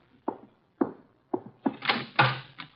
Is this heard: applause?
no